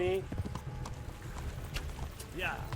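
Horse hooves clip-clopping in a gallop in Kingdom Come: Deliverance, steady rhythmic thuds running under loud game dialogue and shouting, with a brief whinny-like tone near the end.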